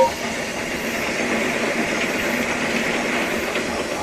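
A steam engine roars past close by, a loud, steady rumbling rush with faint rhythmic clatter of wheels on track, and no voices.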